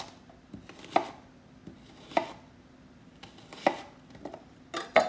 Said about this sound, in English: So we're just going to give our onion a chop.